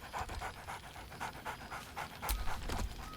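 A dog pants steadily in rhythmic bursts in Baldur's Gate 3, with a brief louder whine or breathy rise near the end, heard alone without talk.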